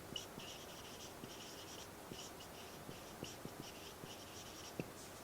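Chalk or marker scratching out a sentence on a classroom board, steady short strokes with rhythmic taps, faint and close, no talking.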